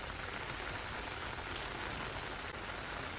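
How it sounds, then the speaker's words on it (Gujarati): Heavy monsoon rain falls steadily on surfaces in Talangana village near Upleta, Gujarat, a dense, even hiss of drops with no voices, continuous from start to finish. "ઉપલેટાના તલંગણા ગામમાં ભારે વરસાદ જોવા મળી રહ્યો છે"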